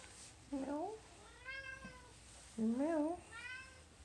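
A cat meows indoors at close range, about four distinct rising-and-falling meows spaced a second or so apart, quiet and clear over a faint room background.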